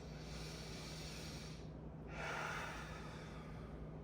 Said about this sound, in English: give me 5 deep breaths